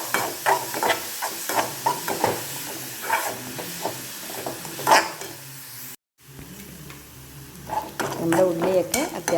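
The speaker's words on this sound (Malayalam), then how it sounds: "ചെയ്തെടുത്ത ഉള്ളിയും കറിവേപ്പിലയും കുറച്ച് ഉപ്പും കൂടി നന്നായിട്ടൊന്ന് വഴറ്റി എടുക്കാം" Chopped shallots, curry leaves and a pinch of salt sauté in hot oil in a pan. The steady close sizzle is broken by spatula scrapes and stirring bursts, with a brief cut of silence near the end before the frying resumes.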